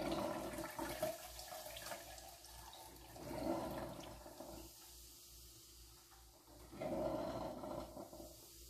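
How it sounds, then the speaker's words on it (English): Cranberry lemonade poured through a small mesh strainer into a jar, heard as a few bursts of splashing, trickling liquid with quieter gaps between, fairly close and soft. "And I'm just going to pour it right through the strainer."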